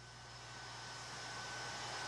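A NASA plane taxis into a hangar at Ellington after a long flight from Kazakhstan, its engines producing a steady, loud, continuous roar that swells slightly throughout.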